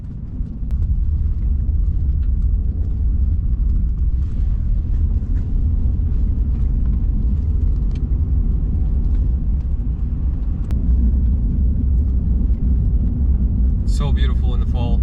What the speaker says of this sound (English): This is a Ram 4500.